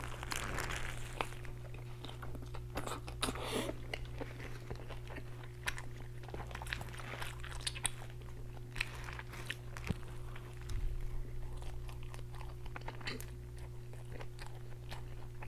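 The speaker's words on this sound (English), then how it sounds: "The seeded bun squishes down when I bite into it." Biting into and chewing a double char-grilled cheeseburger on a seeded bun with lettuce and caramelized onion, close and soft crunchy mouth sounds repeating steadily over a constant low hum.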